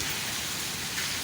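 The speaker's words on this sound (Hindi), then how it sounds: "इंतहाई ठंडा, शदीद बारिश और उसके साथ यालाबारी।" Heavy rain with hail pours down in Rawalpindi during very cold weather, a loud, dense, unbroken hiss of falling water and ice that covers the whole moment.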